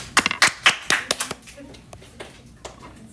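A small classroom group claps for a student, a brief burst of scattered handclaps that quickly thins to a few isolated claps, with faint voices underneath.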